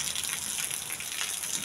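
Heavy rain pouring down in a dense, steady broadband rush, close and loud without any pauses or voices.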